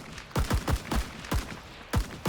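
M1 Garand rifle shots in the Rising Storm 2 video game: about seven sharp, close reports in an uneven rhythm, each ending in a short echoing tail, with brief gaps between them.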